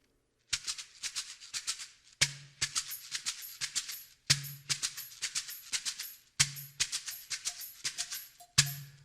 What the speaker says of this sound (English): That's the sound of the shakeré.